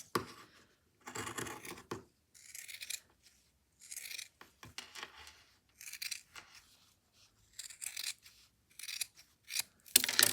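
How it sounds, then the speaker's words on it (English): Scissors trimming fabric while sewing a jacket, with close, crisp snipping and rasping cuts in several separate bursts broken by short quiet gaps. "I'm going to give it a little bit of a trim as well."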